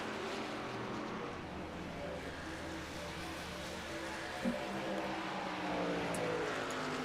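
A race truck in a stock-car racing video game drones steadily as it comes down pit road at Charlotte Motor Speedway, a continuous engine hum with little change in pitch or loudness, and no one speaking.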